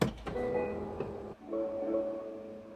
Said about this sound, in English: switch it up to the Rolls Royce chime like this.